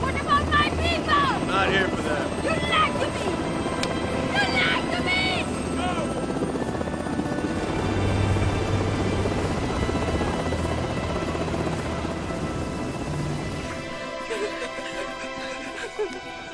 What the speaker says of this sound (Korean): 우여곡절 끝에 헬기가 착륙 지점에 이르자 그들은 리나만 강제로 헬기에 태웁니다